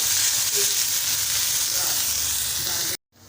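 Onions and tomatoes sauté in a pan, a steady close sizzle and frying hiss that runs evenly, then cuts off abruptly near the end.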